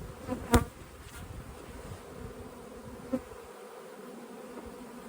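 Honey bees hum at an open hive on a calm spring day, a steady close buzz with a couple of louder bee passes near the start and a brief thump partway through.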